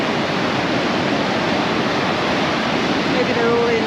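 Waves break on the beach at Paguera, Mallorca, a dense continuous wash of surf that stays loud and steady throughout, with no voices.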